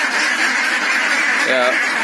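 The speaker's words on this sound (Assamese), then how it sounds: "মোৰ হাঁহবিলাক আপোনালোকে চাওক" Three-month-old domestic ducks being fed grain and rice bran, with one brief nasal quack rising out of a constant loud background hiss of the flock.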